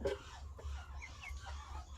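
A chicken clucks a few times softly at a distance over a low background rumble, with no one speaking.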